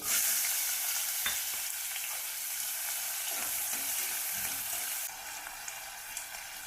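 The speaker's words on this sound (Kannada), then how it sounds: "ನೆಕ್ಸ್ಟ್ ಈರುಳ್ಳಿ ಹಾಕ್ತಾ ಇದ್ದೀನಿ" Chopped onions hit hot oil already crackling with mustard seeds and cumin for a North Karnataka moth bean curry, giving a loud, steady sizzle with light stirring scrapes throughout and no voices.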